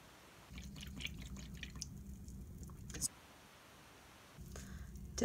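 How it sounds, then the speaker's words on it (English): Paintbrush dipped and scrubbed in a cup of rinse water during watercolor painting, two bursts of soft swishing and dripping close by, separated by a quiet pause. "Dip in the water, dip in the paint."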